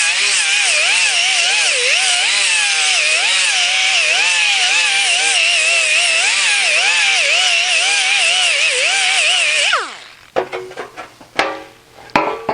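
A power sander fitted with a fresh 80-grit disc grinds an aluminum weld seam on a Jaguar E-Type bonnet, a loud, sustained whine with wavering pitch that cuts off abruptly, followed by a few scattered knocks.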